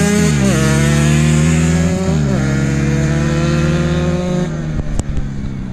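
Two mopeds, a CH70 and a Jo125, race at a moped meet, one loud close two-stroke engine droning high and buzzing as it revs and shifts, then easing off near the end with a sharp knock.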